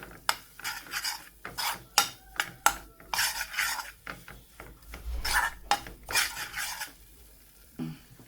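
Gram flour being mixed for Gujarati churma ladoo, a series of rhythmic scraping strokes of a spoon against a metal bowl, close and fairly crisp, with brief pauses between stirs and no talking.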